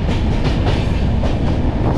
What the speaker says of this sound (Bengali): ট্রেন কিন্তু এবার ধীরে ধীরে পাহাড়ের মধ্যে উঠতে শুরু করে দিয়েছে।